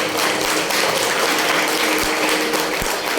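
An audience claps after a bamboo flute performance at a formal ceremony, a steady, dense wash of applause holding at an even level for about three seconds.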